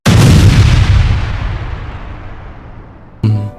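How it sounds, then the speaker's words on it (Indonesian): A bomb detonates in front of the US consulate general building in the Bali bombing: one loud, deep boom that rolls off slowly, followed by a second sharp burst near the end. "Ali Imron menekan tombol pemicu menggunakan telepon untuk meledakkan bom yang berada di depan gedung konsulat jenderal Amerika Serikat"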